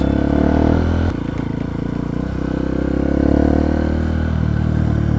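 A Honda CRF150L motorcycle ridden on asphalt through farmland, its engine loud and close with a steady mid-pitched drone, a brief clatter, then rising revs as it accelerates.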